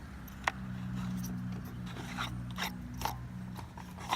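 Clicking and ratcheting of the quick-detach mechanism on a Black and Decker 20V lithium battery chainsaw: several sharp mechanical clicks and short scrapes over a low steady hum, close and fairly quiet.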